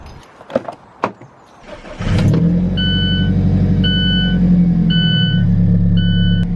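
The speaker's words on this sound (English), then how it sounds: "let's jump in the 4C and let's go for a drive" An Alfa Romeo 4C sports car starts up after a few door and cabin knocks, its engine settling into a loud, steady rumbling idle close by, while a high electronic warning chime repeats in regular beeps over it.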